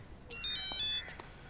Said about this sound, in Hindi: फोन आया था, क्या करें? तो उठाओ।